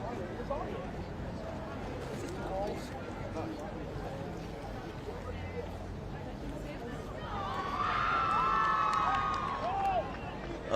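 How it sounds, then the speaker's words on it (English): Cheering crowd at a school rugby sevens tournament, a broad swell of voices rising for a conversion kick, with steady crowd murmur and a commentator's voice carrying throughout. "A big cheer went up for the conversion, but unsuccessful."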